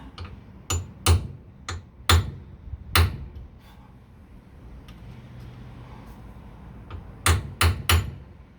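Sharp metallic hammer strikes on a center punch marking a spot to drill: a quick burst of taps, then a pause and another cluster of three or four blows, close and loud.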